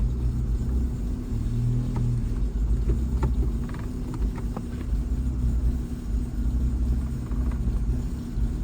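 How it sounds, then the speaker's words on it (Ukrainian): A Daewoo Lanos engine idles steadily after its revs settle, a continuous low rumble close by with light ticks and clicks scattered over it and no talk. "Стабілізувалися обороти"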